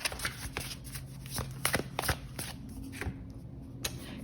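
A deck of tarot cards is shuffled up close, giving a steady riffling and soft slapping with sharper card snaps scattered through it and no talk.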